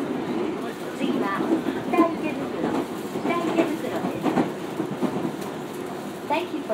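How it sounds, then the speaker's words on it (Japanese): A Tobu line local train bound for Narimasu runs on rails in Tokyo, giving a continuous rumble with rhythmic clatter from inside the carriage. Muffled voices are faintly heard beneath it. "This is the local train bound for 成増."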